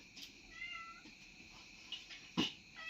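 A cat meows faintly a few times, short, thin calls at some distance in a quiet room, with a sharper knock near the end.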